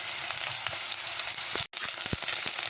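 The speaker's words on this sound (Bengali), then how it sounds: "রসুন বাটাটা দিয়ে একটু নাড়াচাড়া করে নেব।" Garlic paste stirred in hot oil in a pan, with whole garam masala and onion paste for a wedding-style pointed gourd and prawn curry, sizzles steadily up close, broken by a brief silence and scraping stirs.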